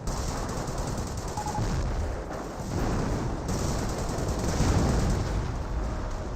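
Vickers machine gun fire in the game Company of Heroes, a dense continuous roar of rapid rounds and battle noise at steady high loudness with no talk.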